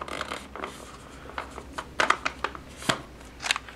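A Danish freeze-dried MRE pouch (chicken curry with pasta) being zipped closed by hand, giving a close run of short crisp plastic zipper clicks and rustles in uneven bursts.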